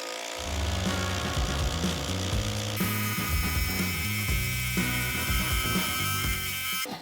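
Ryobi power tool driving lag screws into wood, a loud continuous motor whir with rhythmic mechanical chatter as the screw bites and sinks in, pitch shifting partway through.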